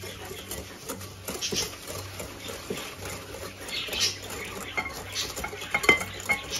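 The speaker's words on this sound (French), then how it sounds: "Alors je prends mes jaunes d'œufs et je vais rajouter le sucre. On va mélanger." Egg yolks and sugar stirred together in a bowl for a hazelnut sponge cake, with repeated light clinks and scrapes of a utensil against the bowl, fairly close and steady, and no talking.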